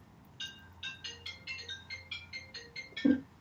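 A mobile phone rings close by in a quiet room, a repeating electronic melody of short, evenly spaced tones for about three seconds, ending in a brief low thump.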